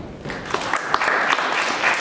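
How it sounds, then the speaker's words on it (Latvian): An audience at an ideas competition on restoring agriculture breaks into steady applause, a dense, loud patter of many hands clapping close by. "Nu, aplausi!"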